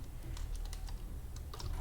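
Text being typed on a computer keyboard, a few soft, faint key taps heard briefly over a low, steady background hum.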